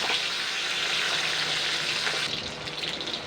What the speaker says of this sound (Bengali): বাটা মাছগুলো কিন্তু ভাজা হয়ে গেছে